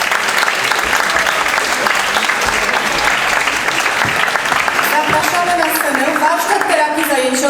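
An audience applauds an award winner at a festival for people with disabilities, with steady, dense clapping throughout. A presenter's voice comes in over the applause toward the end.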